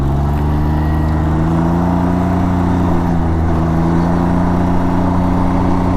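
A Can-Am Ryker three-wheeled motorcycle being ridden, its engine giving a steady, loud, continuous drone with a slight rise in pitch, close by and without speech.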